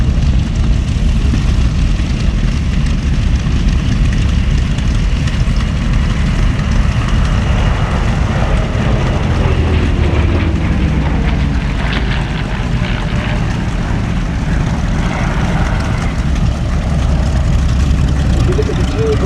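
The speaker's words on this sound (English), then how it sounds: "as Eric touches down to your right in the Corsair" A Corsair propeller fighter touching down at an airshow, its heavy engine droning in a steady, loud, continuous roar that carries under an announcer's commentary.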